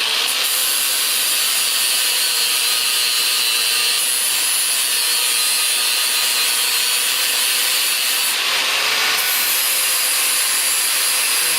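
Power grinder working steadily on a surface in a shop, a continuous harsh, hissing grind running close and loud for the whole stretch, with a brief surge in intensity near the end and no talking.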